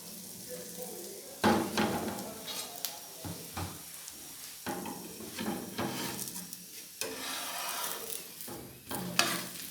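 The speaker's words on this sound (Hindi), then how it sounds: "अब इसको चिमटे की मदद से ऐसे गोल गोल घुमाते जाएं ताकि आपका पराठा जो है नीचे से अच्छे तरीके से बन जाए।" A mooli paratha brushed with ghee sizzles in a pan while tongs turn it round, with a steady frying hiss broken by several louder scrapes and clatters of metal on the pan.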